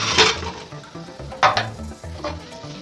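Free-range scrambled eggs in butter are stirred in a pan, soft sizzling with a few scrapes and light utensil knocks, close and quiet with no talk.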